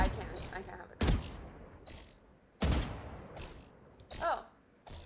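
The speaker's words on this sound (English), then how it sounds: "I'm just practicing shooting right now." Single gunshots crack out one at a time during target shooting practice in a video game, four or five sharp, well-spaced reports with quiet gaps and brief speech between them.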